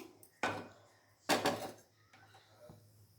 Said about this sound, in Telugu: ఇప్పుడు మనము కడాయి పెట్టుకొని